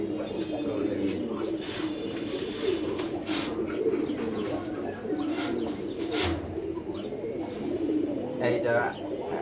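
Pigeons kept for sale, low throaty cooing rolling on continuously from several birds nearby, with a voice talking over them at times.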